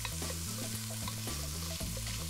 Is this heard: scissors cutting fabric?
no